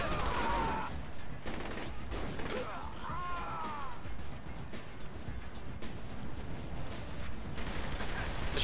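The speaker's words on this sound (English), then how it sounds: "The shotgun is beast." Shotgun fire in the video game Saints Row: The Third, with loud, dense game blasts and clatter running throughout a chaotic firefight, mixed with voices and other game effects.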